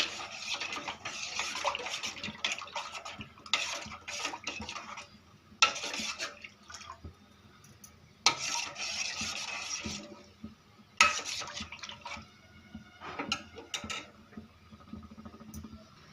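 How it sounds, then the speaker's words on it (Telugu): A spoon stirs ragi flour into water in a bowl, giving close, moderately loud bursts of wet scraping and sloshing that come in irregular spurts separated by short pauses. "డైరెక్ట్ ఇలాగ వాటర్ రాగిపిండి వేసుకొని ఇలా స్పూన్తో మిక్స్ చేయాలి."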